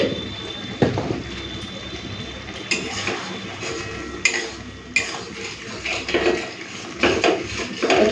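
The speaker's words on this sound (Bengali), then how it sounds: "চিনিটা দিয়ে ভালো করে মিশিয়ে নিলাম।" Sugar being stirred into tomato chutney cooking in a pot, with a spoon clinking and scraping against the pot in irregular strokes over a steady low simmer, up close and fairly loud.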